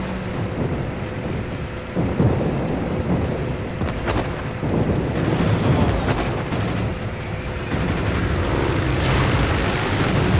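Loud, dense droning roar of bomber aircraft engines in World of Warships, broadband and sustained for the whole stretch, with no talking.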